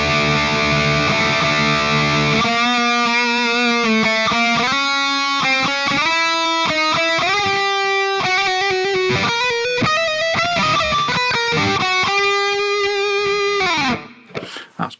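Electric guitar played through a Mooer Prime P1 intelligent pedal with subtle delay and reverb: a loud, sustained distorted chord, then a run of ringing distorted chords and notes with faint repeats trailing, ending in a brief decay.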